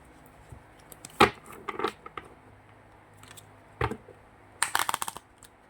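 A Moonology Oracle card deck being shuffled by hand, close and unsteady: scattered bursts of riffling and flicking cards separated by quiet pauses, with a longer fluttering run near the end.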